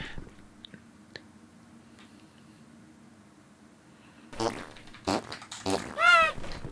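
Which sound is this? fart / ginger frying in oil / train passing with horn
fart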